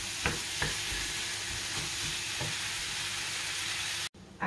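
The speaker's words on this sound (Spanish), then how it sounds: "Y seguimos sofriendo a fuego lento el sofrito." Sofrito frying slowly over low heat in a pan for stuffed aubergines, a steady soft sizzle broken by a few brief stirring knocks and scrapes, ending with a short cut of silence; no talk.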